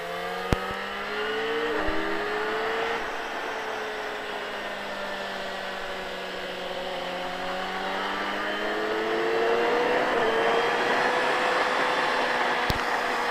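A motorcycle on a track rolls through a chicane on light throttle, its engine note rising and falling smoothly in long sweeps. It sounds steady and moderately close for the whole stretch, with no talk.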